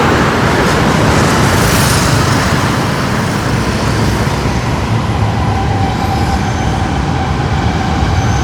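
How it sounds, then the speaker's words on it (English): A train rumbles past nearby in a dense, continuous roar, loud and steady throughout with a slight hiss on top. "Train."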